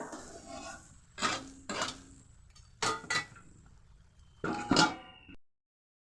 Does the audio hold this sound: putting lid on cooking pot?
yes